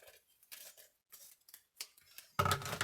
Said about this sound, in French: Et je vais prendre un ciseau. Évidemment, je veux le gros ciseau